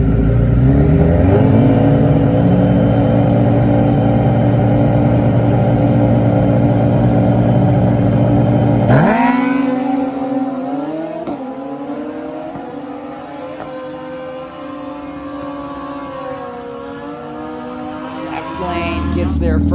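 Suzuki Hayabusa drag bike at a drag strip, a loud, steady high-revving engine roar holding for about nine seconds before dropping away to a fainter, lower drone, with crowd and announcer-style background under it.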